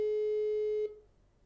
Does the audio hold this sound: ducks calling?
no